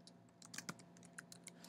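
Light clicking keystrokes on a computer keyboard while typing a spreadsheet formula, a quiet irregular patter of about a dozen taps.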